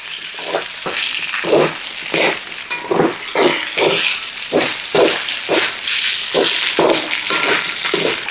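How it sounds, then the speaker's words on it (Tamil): Chicken wings and garlic frying in a pan for a devilled wings dish, with a steady loud sizzle broken by repeated scraping and stirring strokes. "இப்போ இதையும் நல்லா மிக்ஸ் பண்ணிக்கிறோம் இந்த ஃப்ரைல கொஞ்சம் வெள்ளைப்பூடு ஃப்ரை ஆகி"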